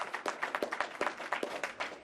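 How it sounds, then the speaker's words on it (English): Applause at a community fund gathering in Prince George's County, with sparse, distinct claps from a modest crowd in a quick uneven rhythm that keeps going steadily for two seconds. "Let's give her applause"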